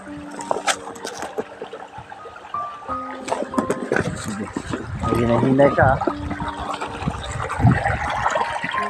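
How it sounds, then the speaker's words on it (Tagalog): Creek water flows steadily along a path, a soft continuous wash heard beneath close, lively talk and footsteps. "ngayon guys may tubig dito may tubig yung sapa nila"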